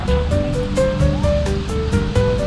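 Ocean surf rolling onto Copacabana Beach in Rio de Janeiro, a steady broadband wash of breaking waves with hotels and a busy crowd nearby, faint tonal background sounds mixed in, no clear talk.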